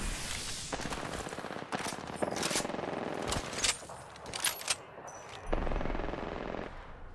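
Automatic gunfire in Apex Legends, bursts of rapid shots fired in and out over several seconds with a few louder cracks, dense and fairly near during a chaotic firefight.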